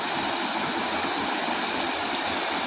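A loud, continuous roar of a waterfall at Wat Tham Lek, Thailand, fills the clip, steady and unbroken throughout.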